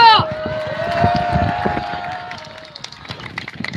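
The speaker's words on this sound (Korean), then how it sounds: "박수, 큰 박수!" Loud audience applause breaks out at a small gathering, mixed with crowd voices and a sustained tone that fades over a few seconds, leaving scattered claps.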